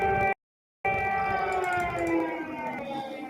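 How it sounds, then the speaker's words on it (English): Steady wailing air raid sirens sound during wartime in Ukraine, several overlapping tones held evenly, with a brief dropout near the start. "We got some sirens going off again"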